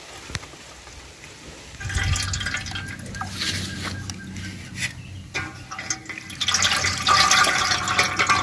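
Pineapple-ginger juice is scooped and poured through a sieve, giving soft trickling and dripping liquid sounds that grow louder in bursts of pouring.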